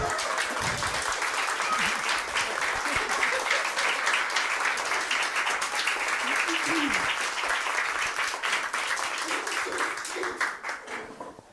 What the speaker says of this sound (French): je vous demande de vous lever et un tonnerre d'applaudissements pour Élodie.